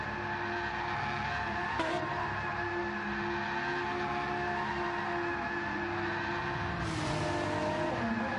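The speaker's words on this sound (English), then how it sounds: "For start of race 2, so he's doing donuts," A GT2 race car in a racing video game revs and skids through donuts on medium tyres at Alsace, a continuous droning engine with sustained tyre squeal and two sharp surges, no talk.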